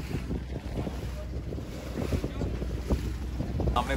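A small boat crossing the sea toward North Bay Island in the Andaman Islands, with a steady roar of wind buffeting the microphone over low engine rumble and water wash, continuous throughout.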